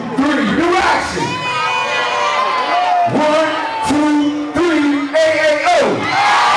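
A loud crowd cheers, shouts and chants in unison in bursts at a CFE Royal Rumble event, voices rising and falling in rowdy waves.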